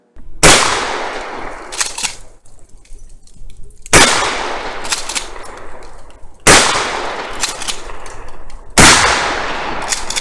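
Shotgun firing slugs outdoors: four loud, sharp blasts spaced a few seconds apart, each with a booming decay and echoing tail, no talking.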